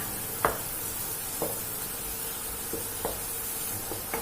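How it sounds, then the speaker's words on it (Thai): Garlic sizzles in melted butter in a hot wok, a steady bright frying hiss broken by a few soft spatula scrapes and taps spaced about a second apart. "กระเทียมผัดให้หอมนะคะ"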